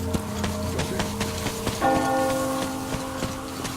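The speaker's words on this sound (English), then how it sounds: "Hear that bell?" In the video game Metro Exodus, a bell rings with sustained tonal strikes over a steady rain-like hiss, a fresh, louder toll starting partway through and lingering, with no talk.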